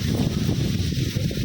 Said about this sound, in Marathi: वाराला सुटलंय आज वार